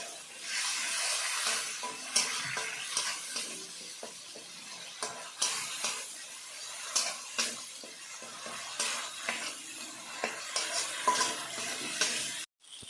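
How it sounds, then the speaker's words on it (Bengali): Spice paste of chili and turmeric sautéing in a pan with a little water, giving a soft steady sizzle broken by repeated scraping stirs, close and moderately quiet, with no talking. "ভালোভাবে মশলাটা কষিয়ে নিয়ে অল্প পরিমাণ জল দিয়ে মশলাটা কষিয়ে নিয়ে"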